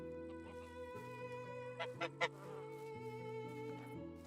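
Goose honking in the Medieval Dynasty video game, a run of loud nasal honks over a droning, stepped background music bed, with a few sharp louder calls bunched near the middle.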